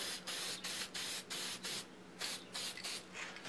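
Short bursts of an aerosol or spray gun mist finish onto a small carved wooden ribbon sign, a series of close, loud hissing sprays with brief pauses between them.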